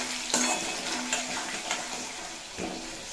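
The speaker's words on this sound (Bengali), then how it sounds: "এরপর আলু আর আদা খুব ভালোভাবে ভেজে নেব" Potatoes and ginger fry in a pan for a vegetable dish, a steady loud sizzle with a few sharp scrapes and stirring knocks from a utensil running through it.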